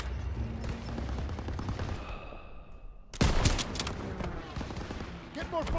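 Rapid gunfire and machine-gun bursts in a Call of Duty: WWII battle as half-tracks move into a town square, dense volleys throughout with a sharp, louder salvo midway, while voices shout over the fighting.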